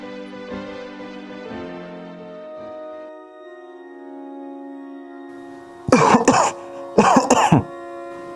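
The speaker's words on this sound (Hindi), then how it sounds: "फिर ये खांसी क्यों आ रही है?" A man in a Hindi domestic drama scene coughs in two loud, harsh bursts close up, following a stretch of soft sustained background music.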